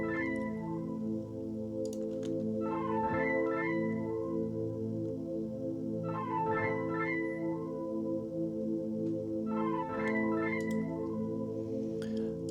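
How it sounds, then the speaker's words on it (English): Layered Prophet V3 synthesizer patch playing sustained pad-like chords with a brighter plucked melodic figure recurring every few seconds, steady and moderately loud, with no voices. "For the second part, I used again the Prophet V3."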